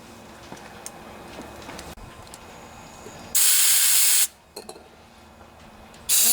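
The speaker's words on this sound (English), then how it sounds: "And just spray out all the little areas inside here that could be hiding stuff." Aerosol cleaner sprays into a Honda EU2000i generator carburetor, a loud, steady hiss for about a second, stops, then starts again briefly at the end, over quiet workshop background.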